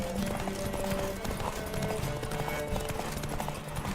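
A horse gallops in The Witcher 3, with fast, continuous hoofbeats close up under game music and ambient noise.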